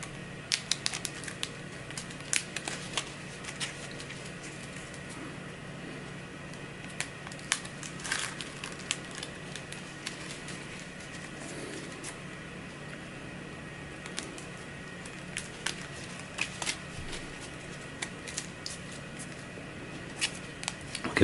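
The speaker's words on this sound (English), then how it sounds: "I'll give the items a shuffle." Item cards for the Zombicide Green Horde board game are shuffled on a tabletop, giving soft, scattered clicking and riffling snaps in irregular bursts over a quiet room hum.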